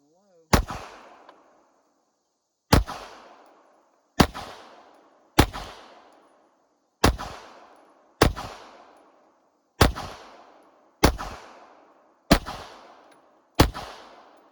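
Ruger Max-9 pistol fired ten times in sharp, separate cracks at a steady pace of a second or two apart, loud and close, each shot trailing a short echo.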